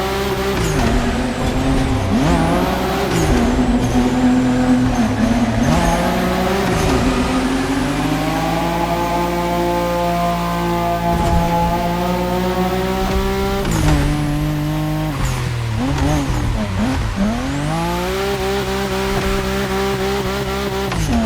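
Race car drifting in The Crew Motorfest, engine rising and falling through revs as tires squeal in long sliding skids, loud and close, with repeated gear shifts and no talking.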